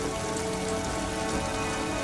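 A short burst of dense, even rainfall in Rise of the Tomb Raider, a constant hiss of drops on surfaces with no pauses.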